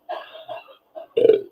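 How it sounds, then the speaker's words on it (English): A woman lets out a short burp, one quick croaky belch after a few faint throaty sounds, close and alone. "I burped."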